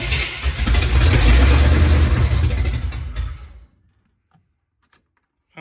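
A Chevy K5/K10 off-road project truck engine runs loud and close with a rough, steady rumble for a few seconds, then shuts off abruptly into near silence with only faint ticks afterward.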